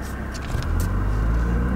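An Audi R8 sports car set to sport mode pulls away, its engine rumble rising into a deep, loud, steady drone close up, with no talking.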